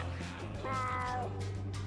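A cat meows once inside a video game, a short tonal cry over a steady low game hum, moderately loud and with no speech.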